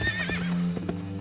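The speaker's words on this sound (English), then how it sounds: "Merida and Angus galloped through the forest" A horse's hooves clip-clop at a gallop through a forest while the animal lets out a high whinny, close and clear with no one talking.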